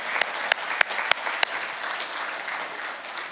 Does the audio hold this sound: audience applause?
yes